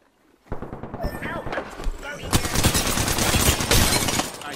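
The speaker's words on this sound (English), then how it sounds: "I shot at an enemy shield." Gunfire in Apex Legends, a burst of rapid shots crashing in loudly and continuing in dense, overlapping volleys throughout.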